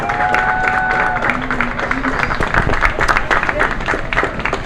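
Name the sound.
crowd applause at softball field dedication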